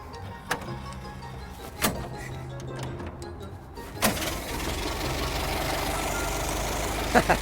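Ford Model T engine being hand-cranked: a few isolated knocks and clunks, then the engine catches and settles into a continuous rough running rumble close by.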